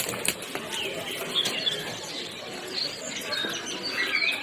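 A pigeon with a clipped wing, held close. It gives soft, faint coos mixed with a few light chirps over a low background hiss.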